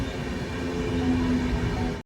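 A weekly express train on the Bengaluru–Mangaluru line pulls into Chikkabanavara railway station, a steady, close rumble of rolling wagons with a faint sustained tone running through it.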